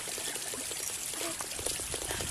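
Mountain spring water pours in a steady, continuous stream on a mountain road in Aurora, a close hiss with faint background sounds throughout.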